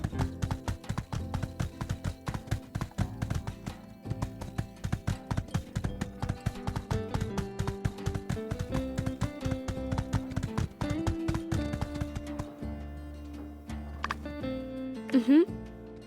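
Rhythmic clip-clop of horse hooves in the farming video game My Time at Sandrock, steady trotting steps over background music, slowing near the end with a brief whinny-like sound.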